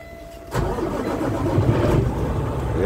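A truck engine starts up: a sharp crank catches after a quiet moment, then the engine settles into a steady, fairly loud idle with a slight rise in intensity, heard up close with no talking.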